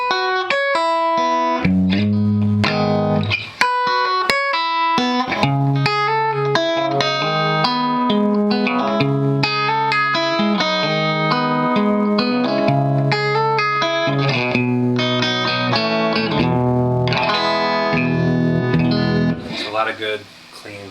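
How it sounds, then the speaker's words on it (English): A Mexican Stratocaster electric guitar played clean through a vintage Polytone 102 amp, bright and ringing, with strummed chords and single notes sustaining continuously and loudly throughout. "And this is how this sounds just through a Mexican Strat."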